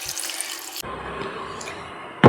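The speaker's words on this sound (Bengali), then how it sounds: "দেখো বেশ সিদ্ধ হয়ে গেছে, জল দিয়ে দিলাম।" Water poured into a cooking pot of boiling potatoes for a white potato curry, a steady close splashing stream that stops, then quieter dripping, followed by a short loud splash at the end.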